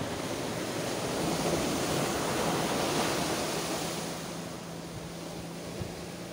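Ocean surf washes in steadily at a rocky fishing spot on the coast at Ternate, a continuous broadband roar of rough waves with some wind, fairly loud and close, with no talk over it.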